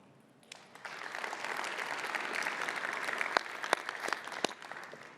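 Audience applause at a tech conference session on building AI solutions with Semantic Kernel, following a live demo; steady, moderately distant clapping from a large crowd that swells after a quiet start and holds for several seconds.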